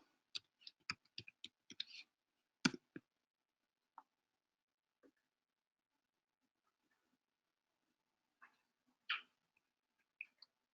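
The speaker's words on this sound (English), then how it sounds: "Apologies to people online who can't see the fact that I'm typing, which is glacially slow." Slow typing on a computer keyboard at a data facilities meeting: a quick run of faint clicks at the start, then sparse, widely spaced single keystrokes in a quiet room.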